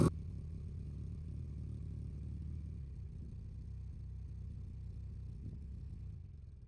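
A second motorcycle, parked beside a Honda Shadow VT750 being serviced, fires up and settles into a steady low idle rumble in the background for several seconds.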